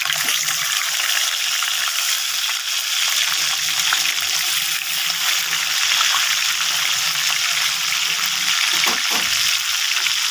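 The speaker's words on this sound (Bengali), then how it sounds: "এইভাবে করে আমি সম্পূর্ণ মাছ ভেজে নেব।" A whole fish frying in hot oil, a steady bubbling sizzle with watery crackle throughout, close and continuous without speech.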